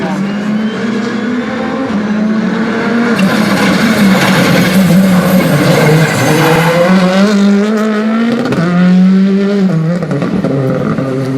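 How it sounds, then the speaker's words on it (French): A Citroën C3 R5 four-wheel-drive rally car of over 300 horsepower races past, its engine roaring and shifting with tire squeal, loud and continuous under someone speaking French. "Un bolide de plus de 300 chevaux, 4 roues motrices."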